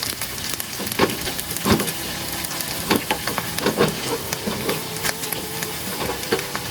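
Beef fries with onions and dried red chillies in a hot pan, giving a steady loud hiss and sizzle broken by frequent crackling pops and spits.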